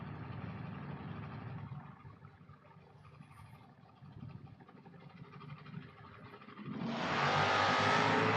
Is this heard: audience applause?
no